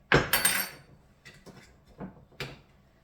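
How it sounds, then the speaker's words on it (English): Two forks mixing seasoned breakfast sausage meat in a bowl, making a few clinking and knocking sounds, loudest at the start and then spaced out, with no talk. "at this point, I like to use a couple of forks to mix things."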